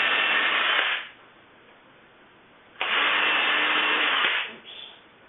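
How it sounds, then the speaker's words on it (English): A power drill on speed setting 2 pre-drills wood, whirring in two bursts, about a second and then nearly two seconds long, with a quiet pause between them, close and fairly loud. "we're going to pre-drill these so that we don't split the wood"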